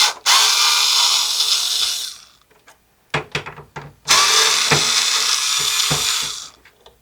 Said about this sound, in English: Now we need to remove these two screws here.